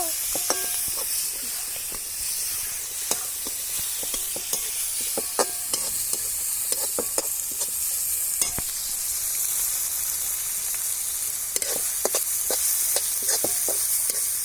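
Tomatoes go into hot oil for a cauliflower bhaji, setting off a bright, loud sizzle and hiss with repeated scraping stir strokes and clicks, up close and continuous for the whole stretch, with no talk.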